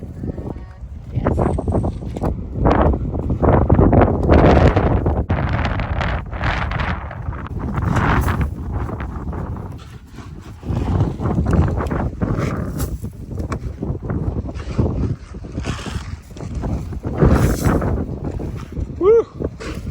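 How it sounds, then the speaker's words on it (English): Strong wind blows outdoors on a farm, buffeting the microphone in loud, uneven gusts that rise and fall with a brief lull midway. "The wind's blowing"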